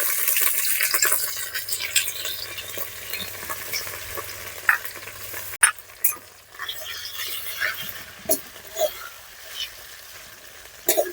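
Ginger and garlic paste sizzling in a pan over low heat after onions have browned, for a pumpkin and rohu fish head curry; a steady hiss with stirring scrapes and small splashes of water in the second half.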